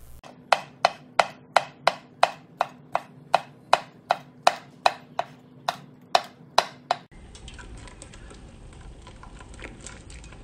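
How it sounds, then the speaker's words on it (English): A knife slices through a red chili pepper on a cutting board in about sixteen crisp, evenly spaced taps, close and clear, before the chopping stops. "I have a red chili pepper right here. We're going to slice that up."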